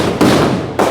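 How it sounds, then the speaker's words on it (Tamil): Firecrackers burst at a temple festival, loud sharp explosions close by, two or three cracks in quick succession. "வெடி கொளுத்தல் என்ற ஒன்று நிகழ்வு இருக்குன்றைக்கு."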